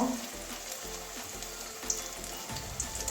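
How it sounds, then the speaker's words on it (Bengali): Methi leaf fritters (boras) sizzle steadily in hot oil over low heat, a close, continuous crackling fry with faint clinks, no voices. "এভাবে পোড়াগুলো সব ভেজে নেব"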